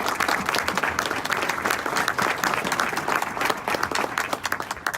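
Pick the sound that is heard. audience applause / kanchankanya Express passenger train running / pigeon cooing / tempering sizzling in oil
audience applause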